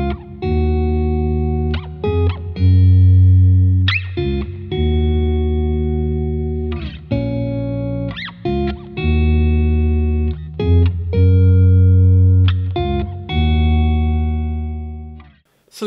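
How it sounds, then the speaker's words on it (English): Sparse melodic guitar notes through a Boss OC-5 octave pedal, with a thick octave-down bass doubling underneath, plucked in short phrases with pauses, close and fairly loud. "play a somewhat sparse melodic guitar part and get that bass sound underneath"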